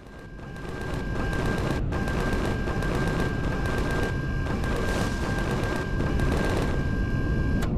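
Turrets in the space survival game Empyrion fire nonstop in rapid automatic bursts, a loud, dense stream of gunfire that rolls on for several seconds with no talking over it.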